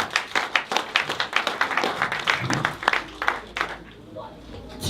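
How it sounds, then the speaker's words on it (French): A church congregation claps together in a steady, rhythmic beat to celebrate a blessing, fairly close, fading out toward the end. "Can we clap for this blessing?"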